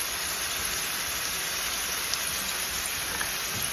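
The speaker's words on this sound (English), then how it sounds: "There's our potatoes frying up." Home fried potatoes sizzle in a pan, a steady, even hiss like light rain that holds without a break and with no talk over it.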